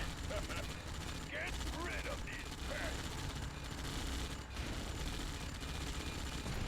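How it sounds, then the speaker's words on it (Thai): Mercenary units in the video game Yuri's Revenge fire guns in rapid, sustained bursts, a steady dense rattle of gunfire running throughout at moderate loudness with a voice talking over it. "ทหารรับจ้าง โอ้โห ยิงดุมาก"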